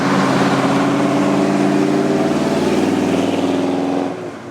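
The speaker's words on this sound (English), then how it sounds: "It's a sweet-sounding coupe" A 1964 Mercury Comet Caliente coupe engine revs loud and close, holding a steady, throaty roar for about four seconds before easing off at the end, with no talk over it.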